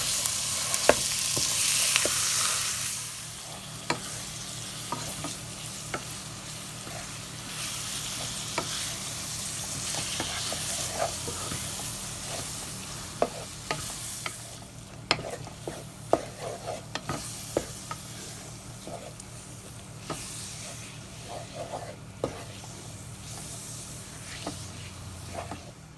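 Ground beef seasoned with salt and cayenne pepper frying in a pan, a bright hiss that is loud at first and then settles into a steady sizzle punctuated by frequent sharp utensil scrapes and taps, up close with no talking.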